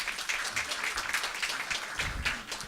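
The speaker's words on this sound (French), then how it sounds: "je vous demanderai d'applaudir ce monsieur encore" Audience at a literary tribute evening for Moroccan writers in Canada claps in a dense, even patter of applause, moderately distant and steady throughout the short stretch.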